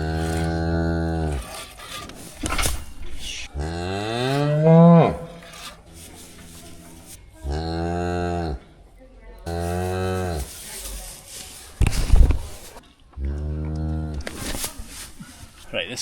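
Cattle on a farm, a cow and calf, mooing loudly and repeatedly in long drawn-out calls with short pauses between them, close by, with rubbing and scraping noises in between.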